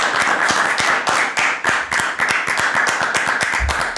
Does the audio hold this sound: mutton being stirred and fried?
no